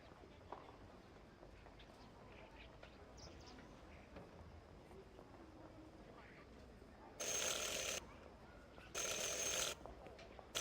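Two loud, bright ringing bursts of a bell from the video game Syberia The World Before stand out near the end over quiet ambient game sound.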